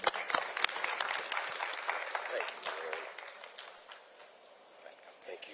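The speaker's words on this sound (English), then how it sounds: "let's get a big round of applause for Mayor Johnson" Applause greets a mayor at a Summer of Safety 2025 press conference, fairly quiet and indoors, strongest in the first seconds before thinning out to a few claps and soft murmurs.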